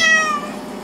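A single short meow from a nearby wet calico cat during a bath, high and slightly drawn out, fading quickly.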